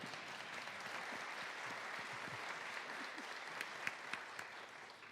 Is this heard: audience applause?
yes